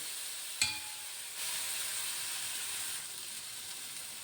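Onions frying in a pan for a Kerala-style dish give a steady, close sizzle and hiss, with a brief sharp clatter near the start.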